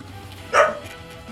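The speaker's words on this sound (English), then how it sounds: "Well, she's just going to keep on barking." A single short dog bark, sharp and fairly close, rising briefly above a low steady background hum during a live gaming stream.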